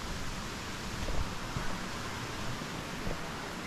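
A creek runs past a campsite near the All Saints Waterfalls in Germany, giving a steady, close, broadband rush of flowing water with no pauses and no voices.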